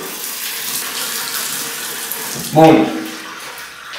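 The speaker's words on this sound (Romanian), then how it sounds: "Prima dată trebuie să ne spălăm pe față cu apă călduță, nu fierbinte" Lukewarm tap water runs steadily from a faucet into a sink for face washing, a continuous close splashing stream, with a short spoken word near the end over a louder splash.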